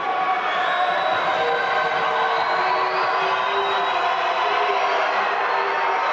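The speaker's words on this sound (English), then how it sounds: "A very boisterous crowd on hand tonight in Waynesburg" Loud, boisterous crowd noise fills a college basketball gym in Waynesburg during a free throw in a district semifinal, a steady roar of cheering and shouting with no break throughout.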